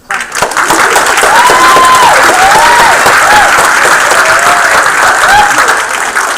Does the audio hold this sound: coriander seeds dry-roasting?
no